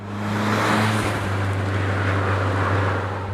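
A Nissan Silvia S15 drift car with a forged SR20 engine hums loudly and evenly at close range for a few seconds, its steady low drone swelling briefly before settling.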